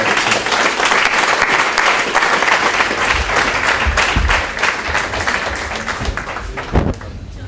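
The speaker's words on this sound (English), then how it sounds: "let's give a good round of applause to Wolf for" A loud, full round of applause at an engineering building grand opening, steady clapping from a gathered crowd that gradually thins toward the end, with a few thumps near the close.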